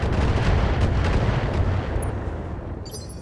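Heavy mech weapons fire at a commando in the BattleTech video game, a dense rumbling barrage of booming shots that fades slightly toward the end, loud and continuous.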